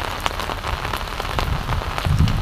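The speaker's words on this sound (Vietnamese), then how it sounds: "Mưa to quá không phải các bạn ơi" Heavy rain pours down at a carp-fishing spot, a dense, loud, continuous hiss and patter of drops striking surfaces up close, with no voices heard.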